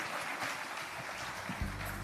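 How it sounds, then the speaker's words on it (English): Steady wash of audience applause for a minister at an investment conference, a dense, fairly distant, even clatter of many hands, with a low thump near the end. "a big round of applause for Minister Parkstyle"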